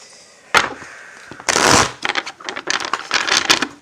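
Playing cards are riffled and shuffled in quick bursts, a crisp flutter followed by lighter taps and rustles, close and clear.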